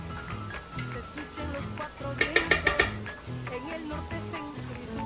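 A wooden spoon stirs garlic paste, olive oil and salt in a pan for lomo saltado, giving soft sizzling and scraping over a steady background, with a brief cluster of louder clattering knocks in the middle.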